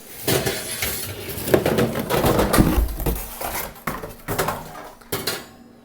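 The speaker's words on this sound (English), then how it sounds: "This guy comes with 2 more of the brand new baking pans." New metal baking pans that come with a Siemens or Bosch integrated oven clatter and clink as they are handled, a busy run of close, fairly loud metallic knocks and scrapes with no voices.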